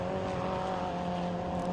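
Junior rallycross cars race through the Talladega banking at Lydden Hill, a steady loud engine drone with a sustained tonal whine and no breaks, heard from trackside.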